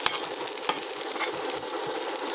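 Onions frying in a pan for a spiced roll stuffing, a steady close sizzle with a few soft stirring scrapes, no talking.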